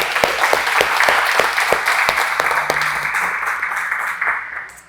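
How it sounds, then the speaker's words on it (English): An audience at a sales and marketing seminar breaks into a round of applause, a dense wash of many clapping hands at steady loudness that trails off slightly at the end. "Can we get one round of applause for Chris and everybody here"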